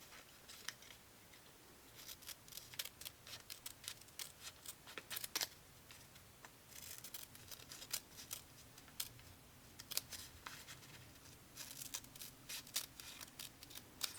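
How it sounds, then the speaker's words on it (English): Rapid, irregular snips and crisp paper cuts from scissors, close by, coming in quick bursts with brief pauses between. "I'm going to use my smaller scissors."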